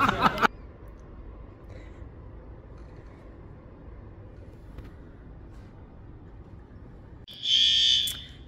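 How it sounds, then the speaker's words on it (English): A fire alarm sounds loudly as a shrill, steady electronic tone for about a second near the end, after a stretch of quiet indoor background rumble and an earlier brief noisy burst. "there's a fire alarm in the middle of our taping."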